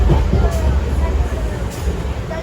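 A MEMU passenger train runs from Rajahmundry to Vijayawada with a steady, loud rumble and rattle heard from inside the coach, continuous throughout.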